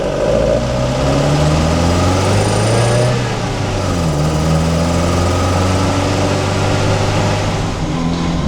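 Opel Manta A four-cylinder fitted with twin Weber DCOE 40 carburetors running steadily after startup, a loud close idle with a slight rise and fall in revs and no talk over it.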